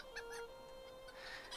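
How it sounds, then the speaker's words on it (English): Chicken in Lord of the Rings Online, an upset game chicken, gives a few short, quiet clucking honks in quick succession, heard alone with no talk. "who is our very upset chicken"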